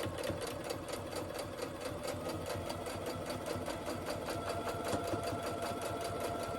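A sewing machine stitches fabric for pocket prayers in a rapid, even mechanical chatter that runs without a break, close but quiet.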